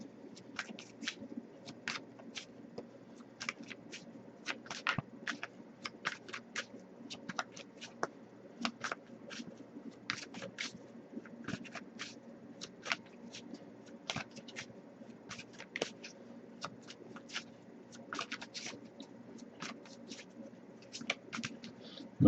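Tarot cards are shuffled by hand in quiet, repeated bursts of soft papery taps and flicks. They patter irregularly and close up throughout.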